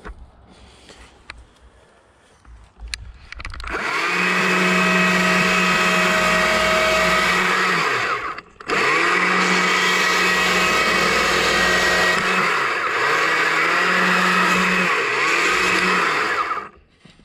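A chainsaw carves a small wooden bear, its engine revving loud and steady for several seconds, dropping out briefly, then roaring again before cutting off.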